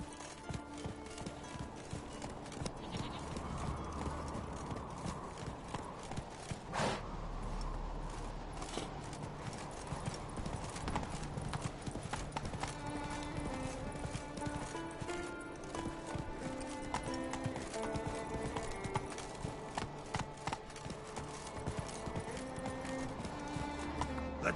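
Roach, a horse in The Witcher 3, galloping with a continuous rapid clip-clop of hooves, quiet and steady throughout, over game music.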